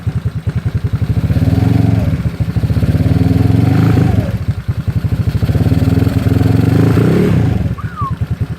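A GY6 scooter engine is revved to about 3000 RPM in two long swells, rising from idle to a strained higher drone and falling back, loud and close, with a short low putter between the bursts.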